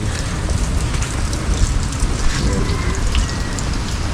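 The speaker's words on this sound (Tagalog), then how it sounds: "Magdamag po yung ulan." Steady rainfall pattering on surfaces, a dense, even hiss of drops with no voices, moderately loud and continuous.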